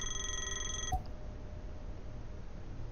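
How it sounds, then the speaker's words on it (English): Electronic telephone ring from the horror video game Play With Me: a steady multi-tone ringing for about a second that cuts off abruptly, leaving low background hum. "You're gonna get a phone call."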